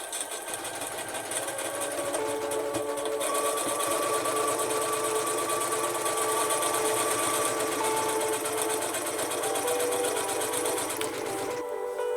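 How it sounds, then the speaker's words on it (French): A sewing machine runs steadily for about twelve seconds, stitching fabric for a toilet paper storage holder. Its whirring motor hum holds an even, continuous drone until it stops abruptly near the end, close and clear with no speech. "je vais aller coudre à la machine"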